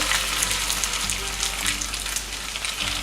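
Mackerel tuna cakes frying in a pan, a loud, busy sizzle with crackling bursts and a low steady hum beneath, close and continuous.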